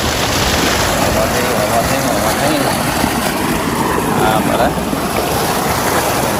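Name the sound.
water gushing from a well pump outlet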